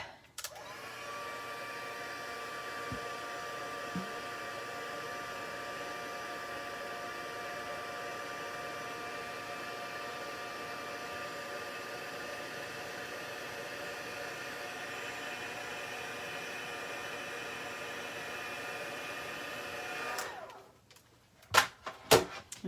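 A heat tool blows hot air onto white powder in a craft setting, a loud steady whirring roar held for about twenty seconds, then switched off, followed by a few clicks.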